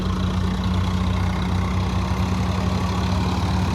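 A tractor engine idles steadily nearby with a low, constant hum and no break.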